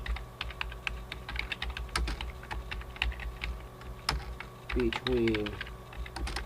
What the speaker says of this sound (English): I can type in my objective